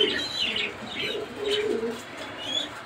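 Big racer pigeons of a red checker breed cooing softly in a loft, with low repeated coos and a few brief chirps from other birds through the clip, no talk.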